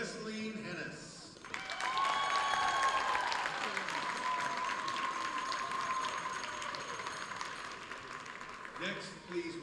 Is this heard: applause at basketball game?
yes